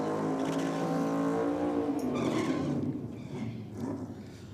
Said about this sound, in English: Mark Hopkins back out here in the LX Tirana up against Alan Stevenson in the HB Tirana, is it?